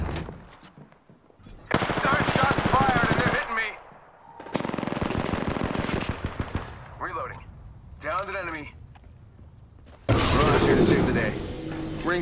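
Automatic gunfire in the Apex Legends battle royale shooter, long rattling bursts separated by short pauses, loud and close, with a voice speaking between volleys.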